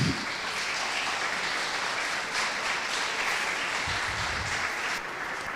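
A church congregation applauds during a worship service, a steady, even wash of many hands clapping that stays fairly distant and soft for several seconds.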